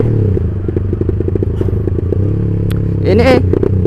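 A Honda CB150R motorcycle with a borrowed Hens half-baffle exhaust about 25 cm long, idling loud and close with a steady popping burble, then revving sharply near the end.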